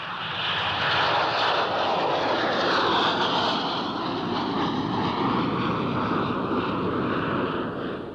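A Dornier jump jet's engines roar steadily, loud and continuous with a broad rushing whine that swells slightly and holds throughout, no voices over it.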